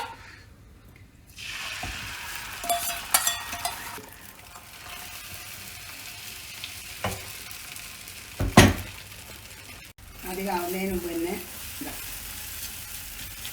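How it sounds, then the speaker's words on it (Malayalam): Eggs sizzle and crackle as they are scrambled in a hot pan with drumstick leaves while a utensil scrapes and stirs in bursts; a voice speaks briefly near the end. "ഇതാണ് ചിക്കി പൊരിക്കൽ"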